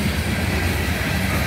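A CN ballast train led by an ET44AC and an ES44AC locomotive rolls past close by, a loud, steady rumble and roar of wheels and cars with no speech.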